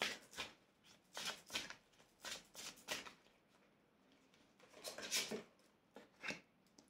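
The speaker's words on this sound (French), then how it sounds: "Maintenant, la troisième carte avec la déesse Isis." Oracle cards are handled and drawn from a deck, making a string of soft papery swishes and slides, close and faint, grouped in several quick bursts with short quiet gaps.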